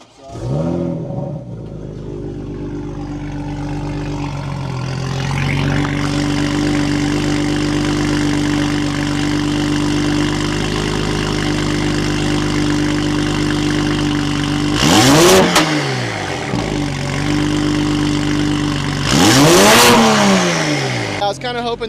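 Toyota Supra 3.0 engine in sport mode, idling with a steady low rumble, then revving up sharply in two loud bursts near the end.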